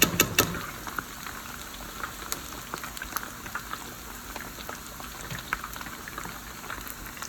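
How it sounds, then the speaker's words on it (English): Asian fried chicken sizzles in oil in a skillet, a steady crackling hiss dotted with small pops, louder at the opening and then settling into an even, moderate fry with no talk. "gonna let these fry."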